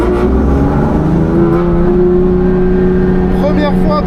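A BMW M3 F80 track car with a 3-litre six-cylinder engine, rebuilt after a fire, drones loudly and steadily from inside the cabin as it accelerates, with a brief voice near the end.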